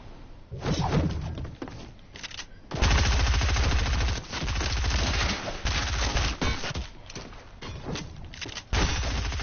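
Rapid automatic gunfire from a PS4 shooter game bursts loud and near in long sustained volleys, separated by brief pauses, with thumping impacts mixed in.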